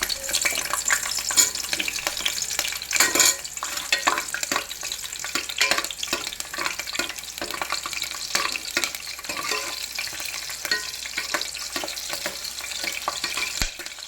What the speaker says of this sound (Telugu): ఆయిల్ వేడెక్కాక పచ్చిమిర్చి వేసుకోవాలి